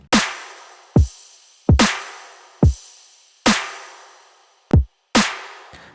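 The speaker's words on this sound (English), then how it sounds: "So the drums sound like this." Drum loop at 144 BPM for a recreated 2014-style bass track: a kick drum and two layered snares hitting in a steady, punchy pattern, each hit decaying quickly before the next, with no voices.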